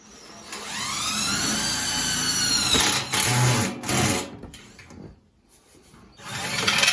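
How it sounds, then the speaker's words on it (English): A power drill whines up in pitch and runs steadily, then cuts out and restarts in short bursts, close and loud, while installing a wood stove in a pallet cabin. "I'll have to drill one here."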